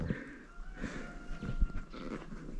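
A dog at a village house in Holovashivka, Ukraine, panting and whimpering close by in soft, uneven bursts over outdoor background noise.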